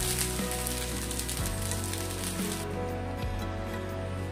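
A semolina and potato burger patty sizzles steadily in hot oil as it fries, a constant crackling hiss with no pauses and no voices.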